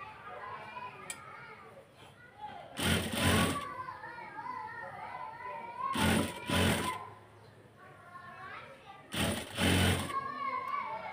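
An electric sewing machine stitching piping onto a round neckline runs in three loud, close bursts of rapid whirring, with quieter gaps between them, while someone talks throughout.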